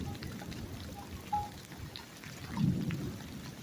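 Steady rain pours down during a thunderstorm, with low rumbling thunder swelling near the end; no voices, just continuous dense rainfall close by.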